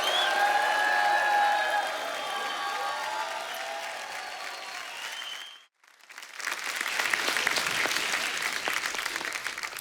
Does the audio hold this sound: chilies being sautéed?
no